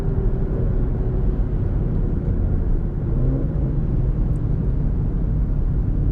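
A Ford Mustang V6 running E85 with a cam upgrade cruises at low revs in a low gear, giving a steady, deep droning rumble heard from inside the car, even and unbroken throughout.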